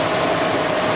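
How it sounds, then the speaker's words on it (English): A car engine idling with the heater set to full hot during a cooling system pressure test and refill, a steady close hum with a faint tonal whine. "The engine's running."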